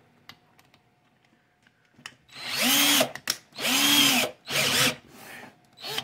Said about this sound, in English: Take our drill. This is just old cheap old drill here.